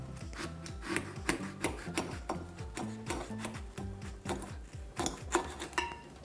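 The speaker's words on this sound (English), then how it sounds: "So I'm gonna start cutting into this" A serrated knife saws back and forth through a watermelon, giving a steady rasping, scraping rhythm with crisp crunchy strokes throughout, close and moderately quiet.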